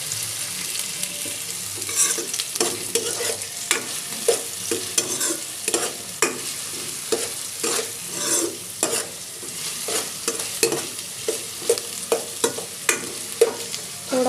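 Chopped onions fry in a pan over a lowered gas flame, with a steady close sizzle broken by repeated scraping strokes of a spoon stirring them, no talking.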